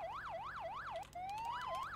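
Police car siren from a video game mod, a rapid wailing yelp sweeping up and down in quick cycles that breaks off briefly, then shifts to a rising tone before the yelp returns, clear and steady.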